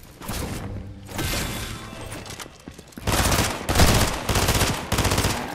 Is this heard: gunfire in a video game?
yes